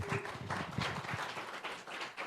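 An audience claps in applause for a speaker introduced at an investor panel pitch event, a brief burst of dense hand claps that fills the room for a couple of seconds and then thins out.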